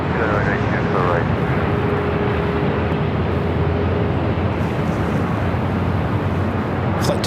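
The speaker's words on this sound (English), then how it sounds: "Flight 216 heading back to Dubai in this A380 Super." An Airbus A380 jet at LAX gives a loud, continuous broadband roar that holds steady throughout, with radio chatter and a voice talking over it.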